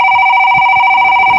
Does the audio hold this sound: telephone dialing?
yes